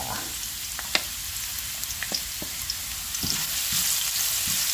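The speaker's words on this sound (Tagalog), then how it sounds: "pwede na po tayong magsimulang maggisa" Ginger sizzles in a saucepan over moderate heat, a soft continuous frying hiss broken by scattered clicks and taps of stirring.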